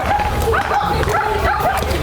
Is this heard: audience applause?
no